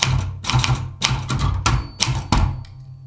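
A renovated typewriter with a new ribbon being typed on, bursts of loud, close mechanical key strikes and thunks in a brisk irregular rhythm, with a small bell ting heard amid the clatter.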